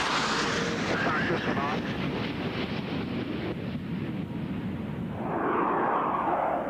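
F/A-18 Hornet fighter jets, loaded with bombs, in flight; a loud, steady broadband jet roar with wind-like rushing that swells slightly near the end.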